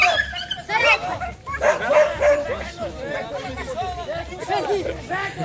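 A dog yips, whimpers and barks excitedly at a dog and cat vaccination event while people chatter nearby, the voices and dog sounds overlapping throughout.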